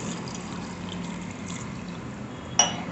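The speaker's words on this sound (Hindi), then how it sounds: "और ये डालेंगे इसमें हम पानी।" Water pours into bael fruit pulp and sugar in a mixer jar as a soft, steady low hiss, with a brief sharp tick near the end.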